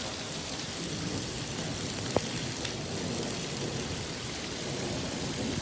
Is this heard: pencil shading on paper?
no